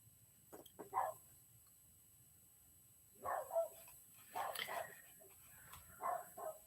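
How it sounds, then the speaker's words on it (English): A dog barks outside the house, heard at a distance in several short bursts of muffled barks and yips separated by quiet gaps. "Oh, my dog is barking out there again."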